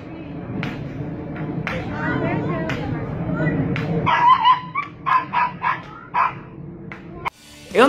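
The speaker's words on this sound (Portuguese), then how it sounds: "E esse cachorro que pula a corda melhor do que eu?" A dog jumping rope barks and yips several times in quick succession, a close, lively burst that rises over a steady bed of talking and background voices.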